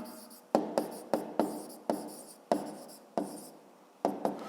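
A pen scratches across paper in about ten quick strokes, each a sharp tap followed by a brief scrape, close and alone, as an answer to a fifth-grade maths exercise is written out.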